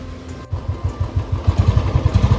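A motorcycle engine pulls away at the start of a long ride from Faridabad to Rishikesh. A steady, close low rumble rises in regular pulses as the bike gets going.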